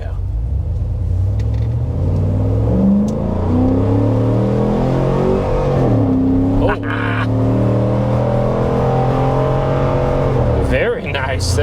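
A 2017 Jeep Wrangler Brute with a Hemi engine and a short ram snorkel cold air intake, revving hard: a loud, deep, rumbling roar that rises and falls in pitch with heavy intake noise, heard close up and continuous throughout.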